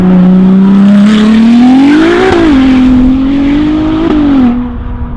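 A Novitec-tuned Ferrari 296 GTS supercar with the roof off, its engine and exhaust giving a loud, close drone that rises in pitch, dips, then climbs again before easing off near the end.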